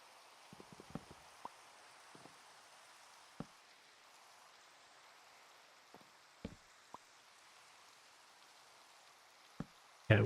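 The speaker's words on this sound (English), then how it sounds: "Man, it's still raining." Steady rain in the modded Minecraft world Sky Factory 5 falls as a faint, even hiss with a few scattered soft ticks and taps, and no voices over it.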